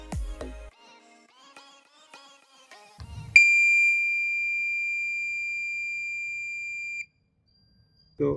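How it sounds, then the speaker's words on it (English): A ship's echo sounder depth alarm on the bridge sounds one sustained, piercing electronic tone for a few seconds after faint clicks and handling noises, then stops abruptly. "if I put my alarm limit to 42 meters, there shall be an alarm over here."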